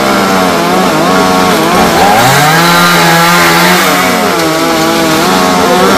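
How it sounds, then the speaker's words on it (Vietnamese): A chainsaw cuts through large branches of a xà cừ tree that overhang power lines. The engine roars loud and close without pause, its pitch sliding up and down as the chain bites the wood. "Thì cưa bớt mấy phần nhánh lớn ở phía trong"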